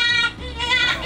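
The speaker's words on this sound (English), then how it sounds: "Yeah, that's the jackrabbit." A jackrabbit call played from a sound button at a children's museum exhibit, a short, raspy, bleat-like squeal with a harmonic tone, heard close and alone.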